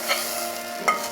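Green peas frying briefly in a pan for fried rice, a bright continuous sizzle with two quick stirring scrapes.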